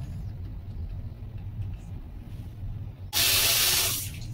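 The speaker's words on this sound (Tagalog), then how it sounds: "So dito guys, meron ng tubig." Water gushes from a newly installed faucet outlet, a bright hissing spray bursting on suddenly after a steady low rumble and continuing loud for about a second before easing off.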